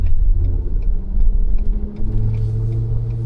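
A Ford Tremor pickup truck with reservoir shocks crosses a water bar on a dirt road, giving a steady low engine and road rumble with a few soft knocks and a deeper surge partway through, close and continuous.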